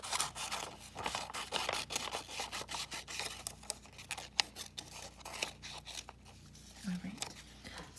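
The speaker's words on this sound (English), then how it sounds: "by keeping my scissors straight ahead, I'm able to get a fairly straight line" Scissors cut a strip of paper in a series of crisp, close snips and rasps, with a voice talking over them.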